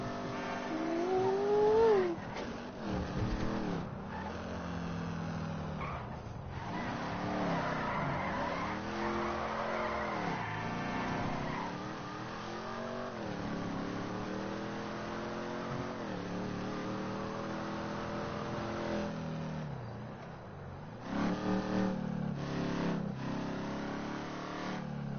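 A muscle car in the video game GTA 5 speeds down the strip, its engine revving and rising in repeated swells with tire squeals and a skid, loud and alone without talk.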